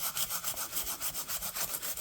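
Hand sanding with 180 grit sandpaper on a glaze-bound surface: quiet, close, rhythmic rubbing strokes repeating evenly about every quarter second, with no voices.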